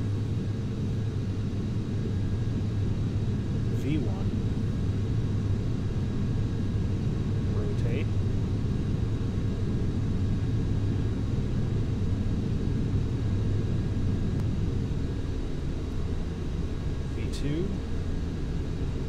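Steady roar of a Boeing 737's jet engines in Flight Simulator X, a constant low droning rumble at even loudness throughout, with a voice speaking occasionally over it.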